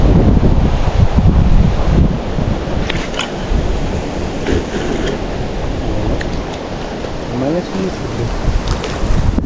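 Wind buffets the microphone in a continuous low rumble while fishing, with faint water and mechanical sounds in the background.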